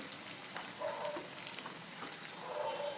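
Asafoetida, curry leaves, garam masala and turmeric sizzle in hot oil on low heat for a black urad dal tempering, a soft, continuous crackling hiss with faint pops.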